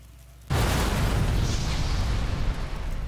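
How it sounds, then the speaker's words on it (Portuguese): A sudden deep bomb boom bursts in after a short quiet stretch in Sniper Elite 4, then a loud rumbling roar lingers for several seconds. "Bombinha demorada da porra."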